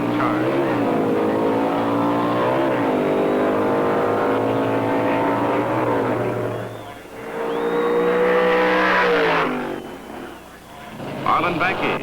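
Drag racing from 1971: a Hemi Roadrunner beating a Mustang in top stock eliminator, engines roaring loud and close with revving pitch sweeps, under steady announcer narration.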